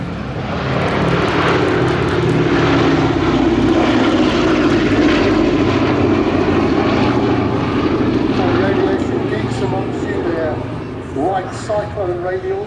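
A B-17 Flying Fortress's Wright Cyclone radial engines roar loudly as it flies close overhead at an air show, a continuous throbbing drone that fades slightly toward the end, with people talking underneath.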